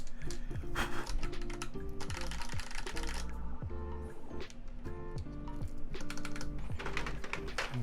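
Rapid typing on a custom-built mechanical keyboard with a brass plate and Korean keycaps, a steady run of close clicky keystrokes over background music.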